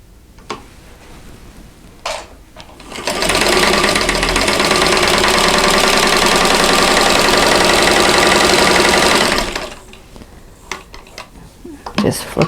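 A sewing machine runs steadily for about six seconds, stitching quilt half square triangles a quarter inch from a drawn line, a loud, even mechanical whir framed by quieter handling sounds and brief talk before and after.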